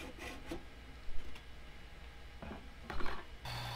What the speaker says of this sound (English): And then I'll finish it off with a hacksaw where the scroll saw couldn't fit.